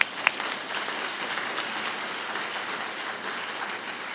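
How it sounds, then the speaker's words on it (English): Audience applause at a student awards ceremony, a steady dense wash of many hands clapping, moderately loud and sustained throughout with no talking over it. "If you give them all a good round of applause."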